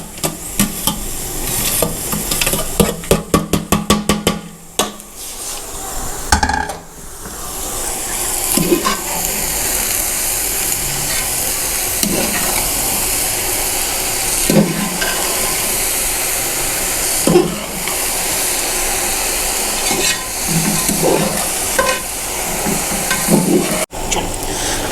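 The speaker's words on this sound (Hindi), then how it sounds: "अब हम डालेंगे चावल को।" Rice goes into the pot for sweet zarda and is stirred, with scraping and sizzling stirring sounds that carry on steadily, punctuated by a few sharp knocks.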